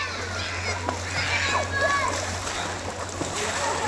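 Children splash and play in a hotel swimming pool in Digha, with continuous sloshing water and bursts of splatter under steady chatter and kids' voices nearby.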